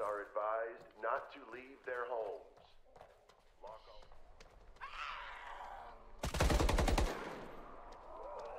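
Gunfire in a trailer for The Day Before, a rapid burst of loud close automatic shots near the end, after stretches of speech and footsteps.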